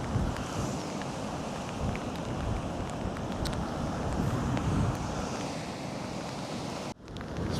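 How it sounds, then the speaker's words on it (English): Gale-force wind at a rocky seashore, heavy buffeting rumble on the microphone with surf beneath, continuous and loud, cutting briefly near the end. "It's blowing a gale, pouring down rain."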